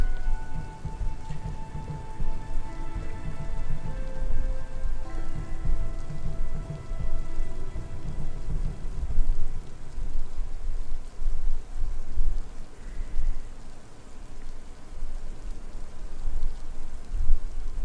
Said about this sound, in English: rains a lot here.